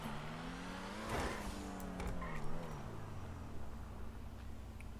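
A modified sports car drives slowly past, its engine a low steady rumble with subtle gear and rev changes throughout, moderately close with some background noise.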